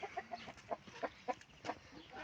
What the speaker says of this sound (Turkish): 27 adet tavuk var. Şimdi horoza bir bakalım.